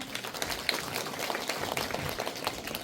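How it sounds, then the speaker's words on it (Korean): An audience at an evaluation meeting in a senior welfare center hall applauds the association president, with soft, dense clapping heard from a distance throughout. "협회장님께 박수 부탁드립니다"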